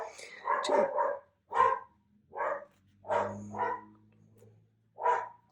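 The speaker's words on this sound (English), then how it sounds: "As the dog barks at the mailman." A dog barks at a mailman in a run of about six sharp, fairly close barks spaced unevenly over a low steady hum.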